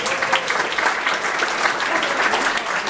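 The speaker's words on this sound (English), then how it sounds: "Give yourselves a round of applause for showing up." An audience at an evening mayor-president campaign announcement applauds steadily, a dense, continuous wash of clapping that holds at an even level for the whole stretch with no talk over it.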